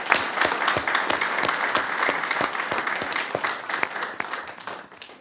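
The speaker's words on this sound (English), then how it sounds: "when they come up, we applaud." Applause at a community college district board meeting, a sustained round of many hands clapping from a room of attendees, steady and fairly loud before tapering off at the end.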